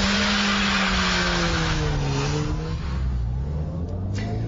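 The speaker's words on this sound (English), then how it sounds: "Let's start with the simplest stunt of them all, the handbrake turn." A Ford Puma small family coupe turning under the handbrake, its engine droning loudly and steadily as the pitch slides down and back up, close and continuous with no speech.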